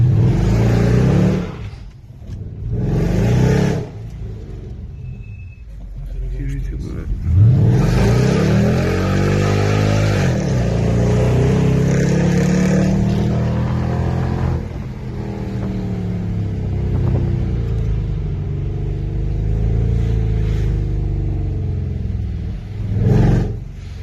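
The supercharged engine of a Mercedes CLS55 AMG drones and revs while driving, rising and falling through long accelerations with a deep rumble and supercharger whine, loud and close from inside the car.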